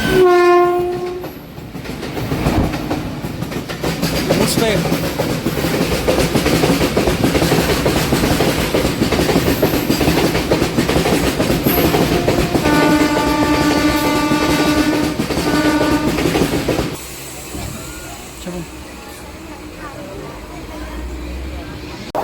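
A MEMU passenger train running from Kakinada towards Visakhapatnam rumbles loudly with steady clatter, and a horn blasts for several seconds near the middle as it nears Narsingapalli station. Brief speech can be heard.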